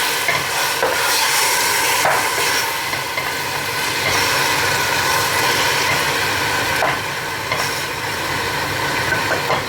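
Shrimp with coriander and spices frying in a hot pan give off a continuous loud sizzle, while a utensil stirs and scrapes them with repeated clinks and knocks against the metal.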